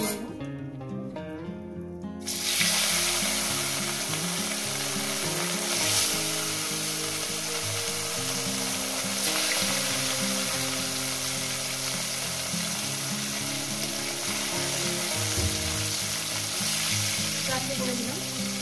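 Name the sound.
rohu fish pieces frying in hot oil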